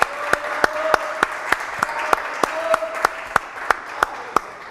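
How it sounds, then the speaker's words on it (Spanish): An audience applauds at a Chaco TV studio interview, sparse and distinct handclaps ringing out at a steady rhythm, fairly close and bright, with a faint murmur of voices underneath. "Fuerte aplauso."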